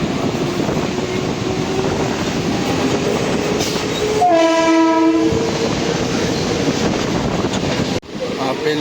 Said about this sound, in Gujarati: આપણી ટ્રેન ખાલી 40 સેકન્ડ જ ઊભી રહી છે ભાઈ, અને 40 સેકન્ડમાં નીકળી ગઈ સીધી મુંબઈ સેન્ટ્રલથી